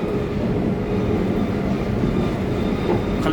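A Paris metro train runs with a loud, steady rumble and a rolling rattle of wheels on track, heard from inside the carriage without pause.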